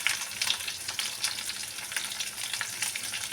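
Onions, dried red chillies and green chillies fry in hot oil, a dense, close crackling sizzle with faint stirring clicks running evenly throughout.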